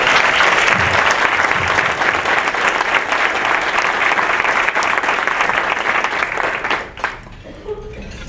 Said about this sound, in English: Y'all need to give him a clap.